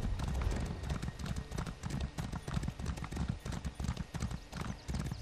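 Horse hooves clip-clop in a steady trotting rhythm in The Elder Scrolls Online, with an occasional whinny, continuous and moderately close.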